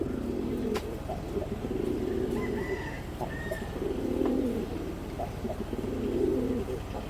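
Several Giribaz pigeons at a pigeon farm coo in low, throaty bursts that come and go in soft waves, fairly close, with no one talking.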